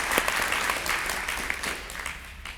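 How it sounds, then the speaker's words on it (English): An audience applauding at a citizenship awards ceremony for the national anthem vocalist, a short burst of steady clapping from a crowd, fairly close and alone. "If you join me in a round of applause for her"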